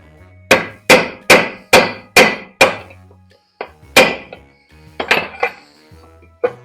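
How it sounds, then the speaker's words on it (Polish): Hammer and chisel striking a metal motor housing during scrap salvage: a steady string of six sharp, ringing metallic strikes, then a short pause and a few more clanks, loud and close, with no speech. "Młotek, przecinak i lecimy."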